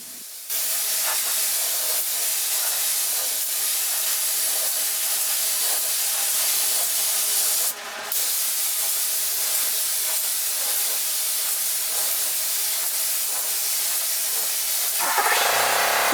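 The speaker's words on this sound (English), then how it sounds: "When I'm applying the final coat of primer, you know, the final 2 coats of primer, I thin it down a little bit." A paint spray gun hisses steadily and loudly while applying thinned primer to a 1972 Ford 4x4 short box truck, the spray running almost continuously with one brief pause before stopping near the end.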